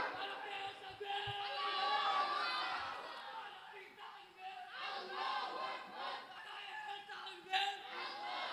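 At a Bangladeshi waz mahfil, a large crowd shouts the takbir together in loud, reverberant waves of massed voices, rising and falling over several seconds before subsiding into a quieter murmur.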